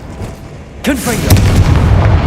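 Confringo blasting spell in Hogwarts Legacy, a sharp fiery burst with a whooshing, descending magical sweep followed by a loud booming explosion and rumbling tail, close and prominent.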